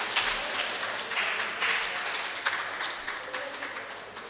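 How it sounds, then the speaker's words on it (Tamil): Steady, loud audience applause fills a hall at a Tamil spiritual gathering, a sustained wash of many hands clapping together without a break. "ஸோ எல்லாரும் பாராட்டுங்க உங்களுடைய கரகோஷத்துடன்."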